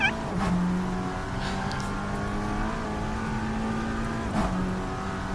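Lexus race car in an NLS endurance race at the Nürburgring passing by, its engine note rising and falling around a steady drone, with a second brief engine surge near the end and a faint voice underneath.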